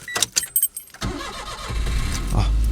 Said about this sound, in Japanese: さあエンジンかけます。